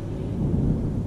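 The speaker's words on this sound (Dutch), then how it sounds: "Waar het overigens nu keihard weer begint te regenen met onweer." A thunderstorm with heavy rain at a harbour in South Africa, heard as a continuous deep rumble of thunder blended with the dense wash of downpour, steady and fairly loud throughout.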